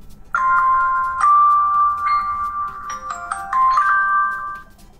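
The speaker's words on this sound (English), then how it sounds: "let us try to turn on the phone, and we see here the Mlais logo." A Mlais M4 Note Android phone plays its startup chime on power-on, a bright melodic sequence of several bell-like tones stepping along over about five seconds, clear and close with nothing else heard.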